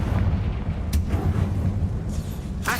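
A Confringo fire spell bursts in the Hogwarts Legacy game inside a spider-filled tomb, a muffled low rumbling blast with a couple of sharp crackling hits over steady game ambience.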